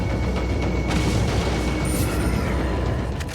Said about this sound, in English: I think there's a guy like throwing grenades or TNT at you over here.